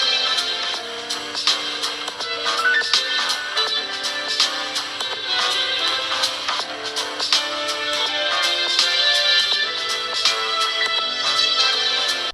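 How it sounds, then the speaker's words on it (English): A Xiaomi Mi 11 Lite phone speaker plays music aloud, bright and thin with rapid rhythmic percussive hits and little bass, steady in level throughout. "here is a sample speaker test for you to judge"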